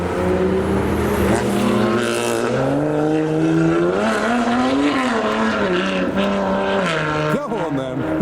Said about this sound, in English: Our car is getting a bit of a wiggle on the approach